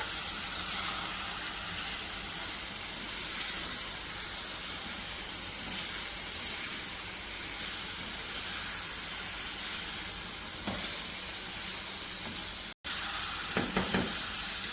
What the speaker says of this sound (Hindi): अब हम इस स्टेज पे इसमें डालेंगे हरी प्याज और हरी मिर्चें जो हमने चॉप कर ली है।